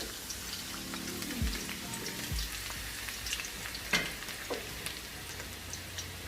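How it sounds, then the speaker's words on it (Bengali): Garlic dropped into hot oil for chilli chicken sizzles steadily in a home kitchen, with a couple of sharp scrapes or taps near the start and scattered crackles and pops throughout, no talking. "এখন আমি রসুনটাকে দিয়ে দিচ্ছি তেলে"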